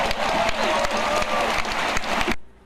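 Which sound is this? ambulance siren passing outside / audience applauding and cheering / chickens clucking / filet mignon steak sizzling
audience applauding and cheering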